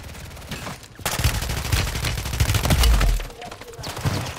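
Rapid bursts of gunfire in Call of Duty online multiplayer, dense overlapping shots and a heavier blast midway, loud and continuous under brief player chatter.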